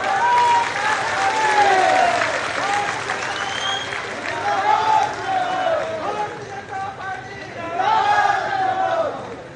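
Loud crowd applause at an Ambedkar Jayanti celebration rally in Madhya Pradesh, steady clapping throughout with cheering voices and shouts rising over it in waves.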